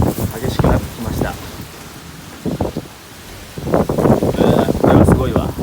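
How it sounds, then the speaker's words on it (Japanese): Typhoon wind and heavy rain lash Itabashi, Tokyo, at night. Loud gusting bursts of wind and rain come in surges, with a quieter lull in the middle, and a voice speaks in places. "風雨激しくなってきました。"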